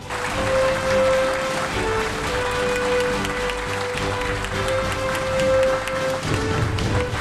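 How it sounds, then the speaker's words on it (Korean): A crowd gives a standing ovation at a Korean patriotic rally. Dense, sustained clapping carries on for several seconds at an even level, over a steady humming tone. "여러분 같이 한번 기립박수 하셔가지고 우리 태극기에 대해서 경의를 표해주시면 좋겠습니다"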